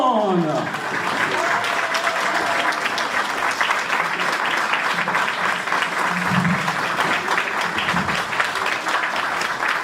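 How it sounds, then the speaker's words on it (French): A standing church audience applauds the arrival of a guest at a youth choir event, loud continuous clapping across the whole stretch with a voice speaking over it early on. "Mettez-vous debout pour applaudir l'arrivée de Shirley Johnson."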